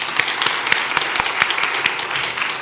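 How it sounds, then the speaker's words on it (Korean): A church congregation applauds to give glory to God during a Korean women's devotional worship service. Dense, steady clapping fills the room, with sharper individual claps standing out over it. "다시 한번 하나님께 영광의 박수를."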